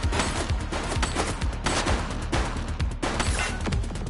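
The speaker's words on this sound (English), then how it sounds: "He's shooting!" Gunfire in The Precinct: a loud, continuous fusillade of rapid automatic shots with rhythmic bursts and no speech.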